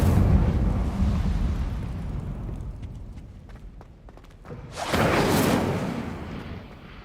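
An Incendio fire spell cast in the video game Hogwarts Legacy, a whooshing burst of flame that swells loudly and fades, following a fading rumble and faint clicks.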